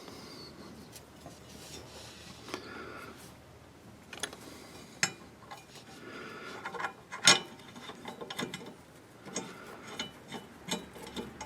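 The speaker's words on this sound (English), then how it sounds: "Now you just put your bolt back in." A bolt being fitted back into a Husqvarna mower blade, heard as faint metallic ratcheting, clicking and scraping in irregular bursts with occasional sharper knocks, close by and without speech.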